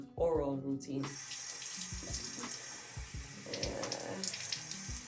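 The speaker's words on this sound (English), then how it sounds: "I like to use my water pick before I brush or floss or anything" A water flosser sprays a steady hiss of water into a sink during a night-time teeth and gum routine. The rushing, tap-like flow runs continuously after a brief voice at the start, with faint clicks and handling noises underneath.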